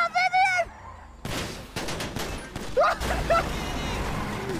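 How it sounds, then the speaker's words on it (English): Gunfire in a GTA V roleplay scene: a brief voice at the start, then a rapid burst of overlapping shots and sharp cracks that continues loudly to the end. "Oh god, they're shooting!"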